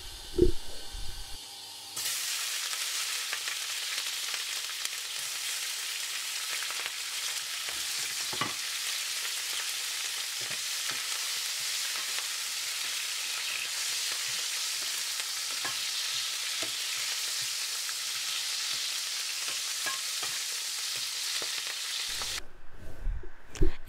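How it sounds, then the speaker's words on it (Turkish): Peppers fry in hot oil with a loud, steady sizzle and hiss that runs on continuously, with occasional stirring clatter at the start and end. "Aynı şekilde biberlerimizi de kısa bir süre kızartalım."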